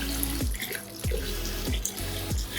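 Water poured slowly onto coffee grounds in a bag inside a vat for a 15-gallon cold brew batch, a steady close splashing flow, interrupted by a few brief dips, with no talk.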